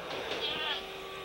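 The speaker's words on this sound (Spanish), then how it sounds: "Una cabra que tiene Goche aquí." A goat bleats once in a short, wavering, nasal call at moderate distance, with faint background noise around it.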